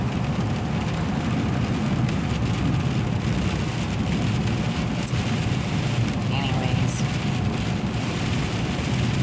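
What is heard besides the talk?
heavy rain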